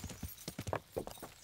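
Rapid clip-clopping of horse hooves in the video game Kingdom Come: Deliverance, a quick uneven trotting rhythm, fairly close and moderately loud with no voices.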